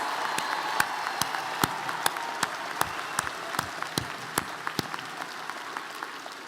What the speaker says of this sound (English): one more round of applause for the graduates from the College of Arts and Sciences